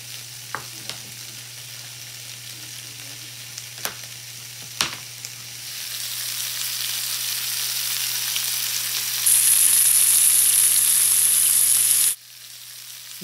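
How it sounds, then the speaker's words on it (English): Bacon crisps in a hot pan with a steady frying sizzle that swells louder partway through, broken by a few sharp clicks, before cutting off abruptly near the end. "We're going to need a pretty hot pan to crisp up this bacon."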